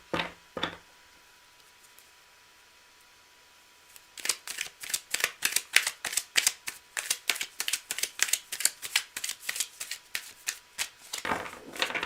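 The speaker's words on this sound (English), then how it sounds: "I'm just going to shuffle it up." Tarot cards riffled in a rapid run of crisp, evenly spaced slaps that rise to a busy, close burst midway and continue steadily, with a few isolated handling rustles before.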